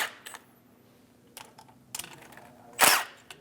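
A 10mm socket wrench loosens the two top bolts on the rear door of a 2001-2006 Chevrolet Silverado 2500 HD during a window regulator replacement, giving a few short, close metallic ratcheting clicks with a louder burst near the end.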